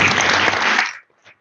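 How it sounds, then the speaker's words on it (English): An audience at a workforce summit panel claps together in a brief, loud burst of applause that cuts off abruptly after about a second. "Let's give our panel a round of applause, please."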